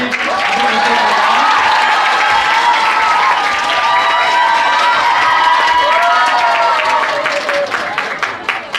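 A high school chapel audience at Seoul Foreign Language High School claps and cheers to welcome a missionary speaker. The dense, loud applause is sustained, with shouts and cheering voices mixed in throughout.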